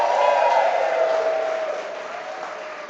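Audience at a church gathering clapping and cheering, a loud burst of applause with whoops that slowly fades over a few seconds.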